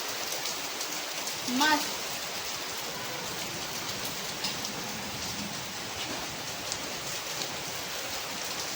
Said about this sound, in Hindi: अब तेज बारिश होने लगी,